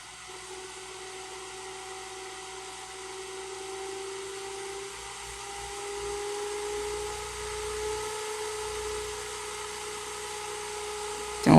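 A power supply's small cooling fan whines steadily and loudly as it is pushed toward 18 volts. The high-pitched drone holds throughout and grows slightly stronger, with no other sound over it.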